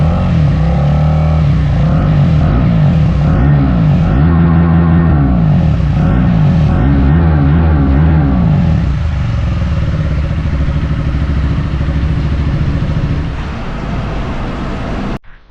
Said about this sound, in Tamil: அண்ட் எக்ஸாஸ்ட் சவுண்ட் பார்த்துருப்பீங்க